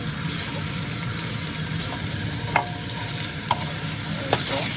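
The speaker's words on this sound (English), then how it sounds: "Keep sauteing until it's nice and a little color" Chicken sautés in a pan for a chicken, rice and vegetable stir-fry, with a dense, even sizzle throughout and a few light scrapes and taps of a utensil.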